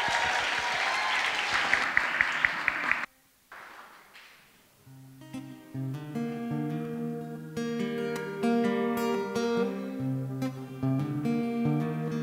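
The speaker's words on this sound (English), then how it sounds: "Can we have a round of applause?" Audience applause for a performer at a college music festival fills the first three seconds, loud and dense, then cuts off; a band with sung vocals follows.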